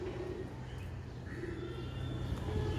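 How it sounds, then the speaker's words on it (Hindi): Domestic Anardana pigeons kept at home coo softly, with low, repeated throaty calls in a quiet room and some faint chirping in the background, and no voices. "ये अनारदाना कबूतर हमारे घर के अनारदाना कबूतर"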